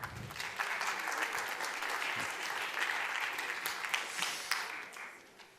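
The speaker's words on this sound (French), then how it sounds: "On peut les applaudir." An audience at a conference on care homes for the elderly applauds the introduced speakers, a fairly distant, steady wash of clapping that swells slightly and then tapers at the end.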